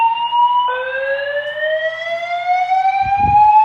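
A fire alarm control panel sounds its evacuation tone: a loud electronic tone that steps and sweeps upward in pitch and holds steady, with a brief low thump near the end.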